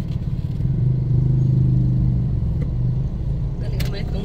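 A motorized tricycle engine drones steadily with a low rumble that swells slightly as it drives, accompanied by rattling clatter and occasional sharp clicks, heard close up and loud.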